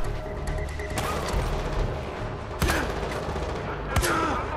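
Gunfire in the shooter game Far Cry 4 during a mountain assassination mission, repeated sharp loud shots over a dense background of battle noise, with a few heavy booming bursts standing out.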